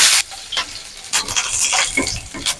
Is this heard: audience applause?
no